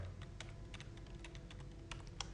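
Quiet, steady typing on a computer keyboard while entering code in RStudio, irregular soft key clicks in quick succession, with no voice.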